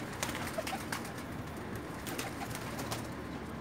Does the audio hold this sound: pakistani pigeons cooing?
yes